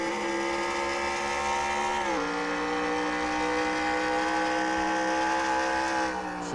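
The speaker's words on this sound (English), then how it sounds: "Let's take a ride aboard the 88 car for this lap." Onboard engine of the 88 NASCAR Cup car in NASCAR Racing 2003 at Mid Ohio, a loud harmonic engine roar holding steady, then dropping in pitch as the car slows, continuous and close with no talk.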